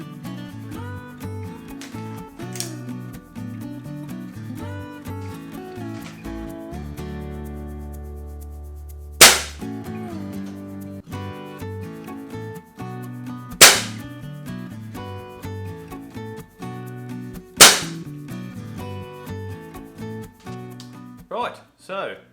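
A Benjamin Nitro Piston air rifle fires three sharp, snappy cracks several seconds apart over a continuous background of other sound.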